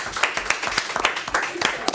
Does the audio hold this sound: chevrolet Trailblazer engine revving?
no